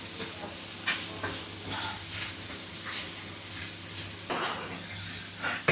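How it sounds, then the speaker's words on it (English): Potatoes sizzling in a pan with a sprinkle of garam masala, a steady soft frying hiss with a few brief stirring scrapes and clinks, heard close and alone at low level. "Continue frying the potatoes"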